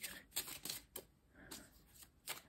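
Tarot cards are handled and one is laid over another, giving faint, close, papery slides and soft taps in short bursts.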